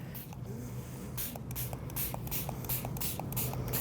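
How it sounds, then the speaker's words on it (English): Water is spritzed from a hand spray bottle onto a watercolor painting, a series of short, crisp pump bursts repeating steadily at close range with no talking. "So I'm just spraying."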